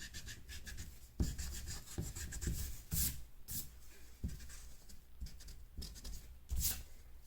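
A pencil eraser rubs back and forth across drawing paper to remove a horizon line and mountains, giving a run of short, close, papery scrubbing strokes in uneven bursts, with no voices.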